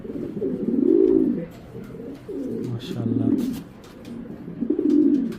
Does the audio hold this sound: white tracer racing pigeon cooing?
yes